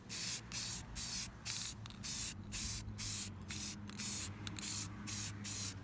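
Spray paint hisses from an aerosol can onto an instrument cluster outdoors, in steady bursts of about half a second with brief pauses between, close and continuous over a low background hum.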